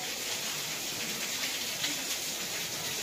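Heavy monsoon rain pours steadily in a rural Maharashtra setting, a dense, even hiss of falling water that holds unbroken throughout, with no voices.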